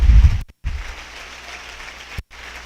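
A church congregation applauds during a sermon, a dense, steady wash of clapping with a short break near the start and another brief gap toward the end.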